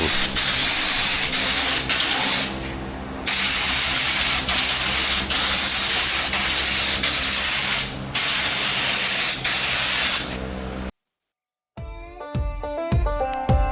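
A paint spray gun coating a DIY camper hisses loudly and continuously in long passes with a few short breaks, followed by a sudden silence and some clattering after.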